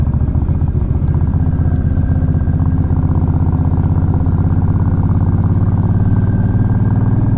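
Close, continuous engine drone of a motorcycle being ridden, steady and loud for several seconds with a throbbing rhythm and faint clicks, no talk.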